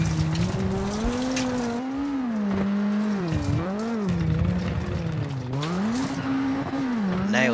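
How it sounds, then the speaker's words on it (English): A rally car in the WRC 7 game swinging through a handbrake turn on a Portugal tarmac stage, its engine note dipping and climbing in strong wavering sweeps, loud and close throughout. "Nailed that handbrake turn."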